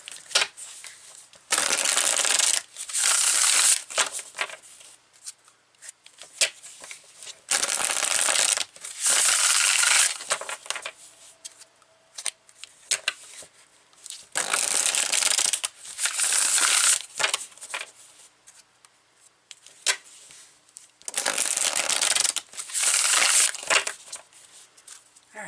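Wise Spell tarot cards are shuffled in repeated riffling bursts, crisp and close, each flurry lasting a second or two with quiet pauses between.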